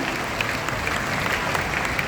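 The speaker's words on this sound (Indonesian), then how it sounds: "Boleh berikan tepuk tangan dulu untuk Kak Larissa." An audience at a Prudential event claps together, a dense, even burst of applause lasting a couple of seconds with no talk over it.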